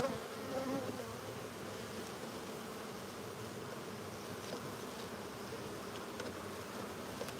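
Bees buzz inside a beehive with its brood comb, pollen and honey, a dense, steady hum close by that continues without a break.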